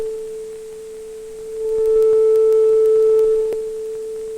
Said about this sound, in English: Intensity or loudness can also be seen on the oscilloscope by the height of the sine wave or curve.